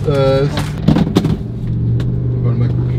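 Car accelerating hard on a race circuit, engine note rising and steady through the clip, with people talking over it inside the car.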